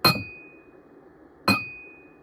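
Glass goblets and wine glasses clinked together twice, each a bright ringing strike with a sustained pure tone that decays slowly, spaced about a second and a half apart in a quiet room.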